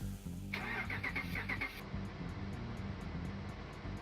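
A modded car engine in Farming Simulator 19 cranks briefly and catches, then settles into a loud, steady, close idle with a low rumbling drone throughout.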